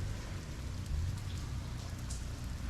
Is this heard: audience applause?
no